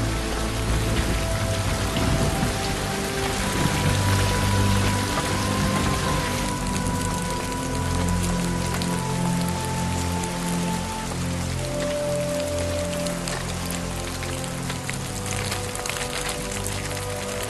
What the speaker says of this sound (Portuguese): Noite. Está chovendo.